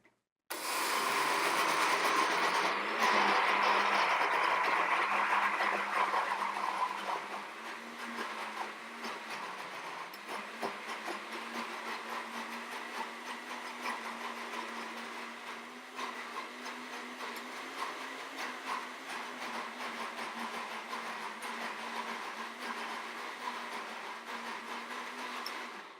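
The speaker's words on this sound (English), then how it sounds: "Put it on chop first to break it down, then puree it, then liquefy" A kitchen blender runs loud and steady, chopping then pureeing a tuna and banana dough for homemade dog treats, the motor tone dropping and settling into a continuous whir as the thick mixture turns smooth.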